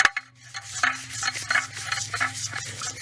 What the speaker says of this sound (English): So we're going to see what happens here with some 400 grit very lightly.